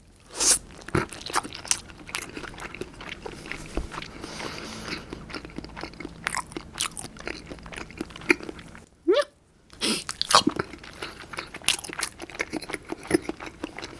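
Acorn jelly, dotorimuk, chewed close to the microphone, giving soft squelchy bites and wet mouth clicks in an irregular rhythm with brief pauses and no talking.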